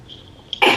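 A single loud, close sneeze bursts out after a brief faint inhale, a sharp broadband blast that quickly tapers off.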